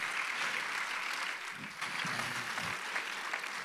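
A church congregation claps together during a sermon, a soft, steady patter of many hands heard from a distance, fairly faint, with a low murmur briefly underneath.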